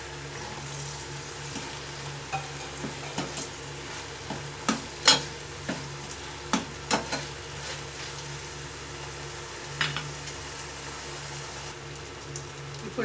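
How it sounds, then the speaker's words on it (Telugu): Meal maker soya chunks fry in oil in a spiced masala base, with a low, continuous sizzle under scattered spoon clinks and stirring scrapes, quiet and close, with no one talking. "మిల్ మేకర్ వేసేసుకుందాం ఇందులో."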